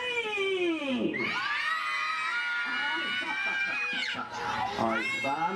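Children scream together during a Simon Says game, a loud, sustained chorus of high shrieks and yells rising and falling in waves, close up with overlapping young voices.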